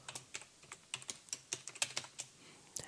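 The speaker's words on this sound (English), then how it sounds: "click and begin to type" Computer keyboard keys clatter in quick, uneven bursts of close clicks as someone types text in CorelDRAW X6 design software, with no talking.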